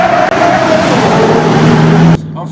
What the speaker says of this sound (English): what sound comes from the Pagani Zonda is heaven to my ears